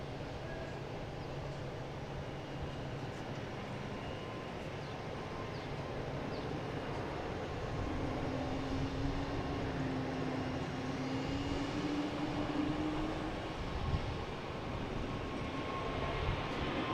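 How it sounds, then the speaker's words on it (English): A Turkish Airlines Airbus A350-900 jet arriving, a steady distant engine rumble with a faint rising tonal whine around the middle, continuous and without talk. "we have Turkish Airlines coming in here from Istanbul in a A350-900"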